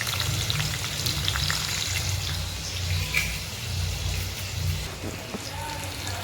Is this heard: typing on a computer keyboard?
no